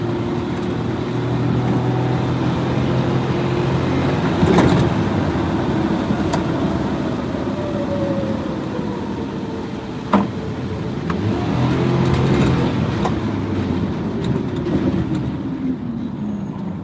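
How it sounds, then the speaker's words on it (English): A worn-out bus engine runs directly beneath the seat, a steady close low-pitched drone with rising and falling revs and occasional knocks and rattles throughout. "I'm sitting on the engine. The engine underneath me"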